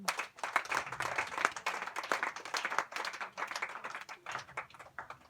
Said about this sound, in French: Acclamez la voix pour le Seigneur